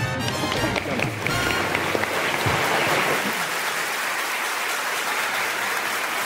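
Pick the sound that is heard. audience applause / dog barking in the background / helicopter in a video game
audience applause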